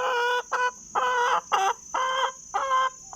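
A crossbred hen clucks angrily over her bran feed: six loud, close, harsh bursts of clucking in a steady rhythm, separated by brief pauses, with nothing else heard.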